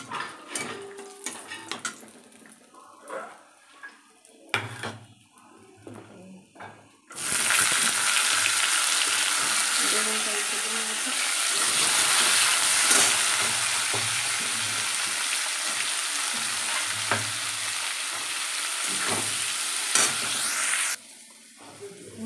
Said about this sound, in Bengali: আর এই যে উচ্ছে ভাজা বসিয়েছি